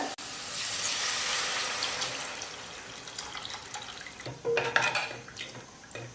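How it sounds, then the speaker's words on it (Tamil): Strained tamarind water poured into a simmering curry in a pot, a steady close splashing and gurgling pour that tapers off into softer sloshing and a few clinks. "இப்போ அந்த புளி தண்ணி சேர்த்துக்கிறேன்."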